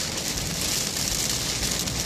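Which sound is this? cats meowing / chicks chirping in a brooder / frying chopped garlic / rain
rain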